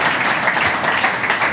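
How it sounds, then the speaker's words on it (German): Audience at a Java User Group meetup applauding after a talk, a loud, dense wash of clapping filling the whole moment without pauses. "Erstmal Applaus."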